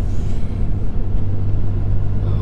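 A 2nd-generation Dodge Ram 3/4-ton long-bed pickup drives at around 33 to 35 mph, heard from inside the cab as a steady, loud low engine and road rumble with no talking.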